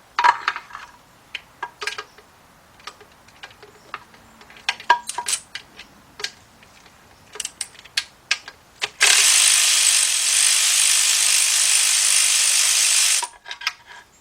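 A hand ratchet with an extension loosens a timing cover bolt on a Chrysler Sebring-type engine, giving a string of sharp, close clicks and metallic taps, then a steady harsh rasping burst of several seconds as the bolt spins out.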